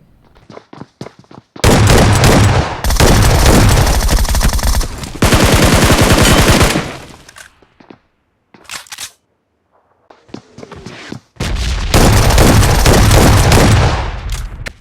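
Shotgun gunfire in the BGMI battle royale mobile game: loud, dense bursts of shooting come in several long volleys separated by short quiet gaps and softer clatter.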